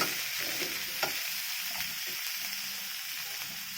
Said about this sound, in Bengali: তারপর দেবো পেঁয়াজ কুচানো, তারপর দেবো আদা, তারপর দেবো রসুন। এগুলোকে আমি ভালো করে ভেজে নেবো।